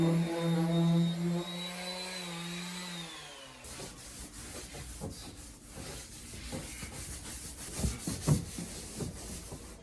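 Paste wax rubbed by hand into a wooden workshop furniture piece, a steady soft rubbing texture of close, repeated strokes heard alone after a brief tonal hum at the start.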